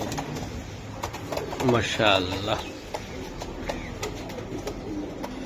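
Bezi pigeons, a mated male and female pair, cooing in a busy pigeon market, a warbling coo rising near the middle amid background chatter and clatter, with someone speaking briefly over it.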